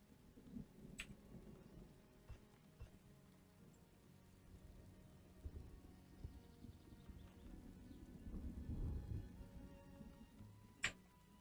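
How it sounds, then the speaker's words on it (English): In the video game Farthest Frontier, a thunderstorm rolls in: quiet, steady rain patters throughout while faint distant rumbles swell toward the end, punctuated by a couple of sharp cracks. "Oh, we got a thunderstorm coming in."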